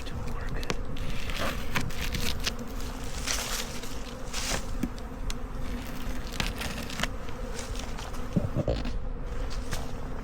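Honeybees at a backyard hive cracked open for the first time since fall, in early spring, make a dense, continuous buzz that stays close and steady throughout, with a few louder swells as bees lift off.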